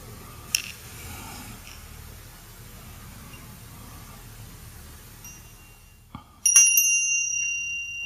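A meditation bell is struck once in a quiet room at the start of a guided session, its clear metallic tone ringing on and slowly sustaining after a stretch of near silence.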